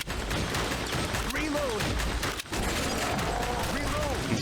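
Rapid gunfire pours into a boss in the House of the Dead remake on Nintendo Switch, a dense steady stream of shots with game effects, under continuous commentary.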